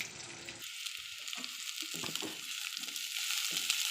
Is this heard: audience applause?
no